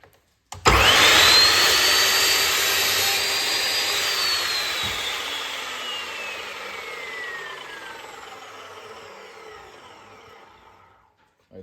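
An Evolution R355 steel chop saw spins up and cuts through timber, a loud whining roar that starts abruptly, drones steadily as the blade bites, then slowly winds down over several seconds.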